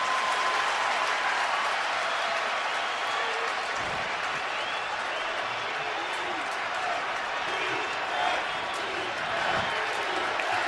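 Stadium crowd roar at an NFL game between the San Diego Chargers and Green Bay Packers, a continuous loud wash of crowd noise with clapping, cheering and a commentator's voice underneath.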